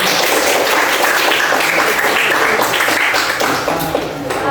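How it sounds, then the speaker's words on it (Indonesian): Applause for all the groups in a guidance-and-counselling class session, a dense, steady wash of clapping from a group that fills the whole moment and eases off slightly at the end. "kita beri aplaus dulu untuk semua kelompok"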